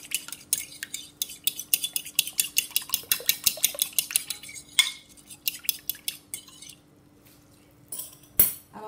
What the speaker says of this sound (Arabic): نخلطو شويه باش تندمج العناصر مزيان